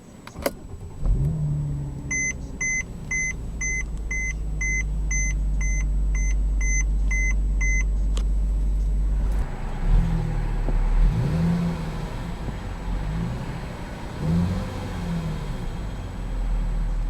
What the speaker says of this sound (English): And now let's get the key and let's start the engine.